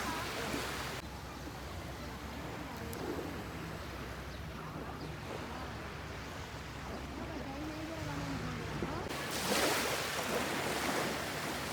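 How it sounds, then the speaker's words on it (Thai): Sea waves wash against a rocky stone breakwater on the Danish coast near Copenhagen, a steady roar of surf with wind buffeting the microphone and a louder surge of water near the end. "ชายฝั่งตรงนี้จะเป็นขดหินเป็นแนวป้องกันคลื่นกระทบฝั่งนะคะ"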